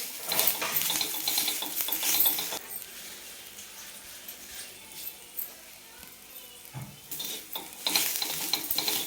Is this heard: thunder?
no